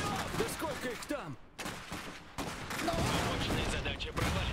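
Gunfire in the Iron Harvest real-time strategy game: bursts and scattered shots crackle through a dense battle soundscape, with in-game soldiers shouting over the shooting and brief drops between clusters of fire.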